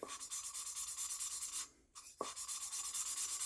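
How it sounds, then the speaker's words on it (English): An engine cylinder head being sanded to remove pitting: a steady rhythm of fast, close back-and-forth abrasive rubbing strokes that pause briefly, then resume at the same pace. "it'll sand all them pits off of there."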